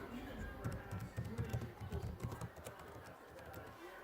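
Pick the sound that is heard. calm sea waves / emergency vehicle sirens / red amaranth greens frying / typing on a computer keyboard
typing on a computer keyboard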